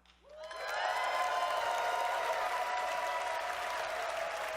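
Conference audience at a Microsoft Power BI session bursting into loud applause and cheering, rising quickly within the first second and holding as a dense, sustained roar of clapping and whoops.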